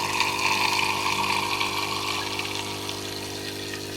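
An aquascape filter pump hums continuously while water pours and splashes steadily like a small waterfall, close and even throughout.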